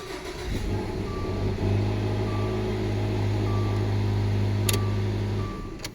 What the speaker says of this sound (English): Now we're going to start the car.